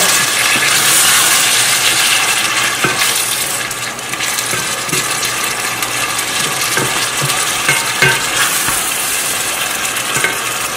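Meat pie filling is stirred in a frying pan, giving a steady sizzle with scraping spoon strokes and occasional light clinks of utensil on metal, close and continuous throughout.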